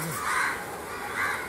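Crows caw twice, a rough harsh call near the start and another about a second later, moderately close over a steady outdoor hiss with no talking.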